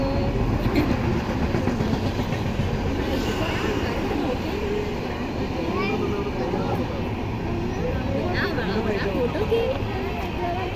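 A train rolling past with a loud, continuous rumble and rhythmic clatter throughout, while people talk over the noise.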